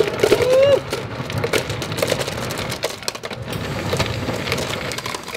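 Ice drops from a drink machine into a cup with a rattling, crunching clatter, loudest in the first second, then settling into lighter crackles. A voice is briefly heard at the start.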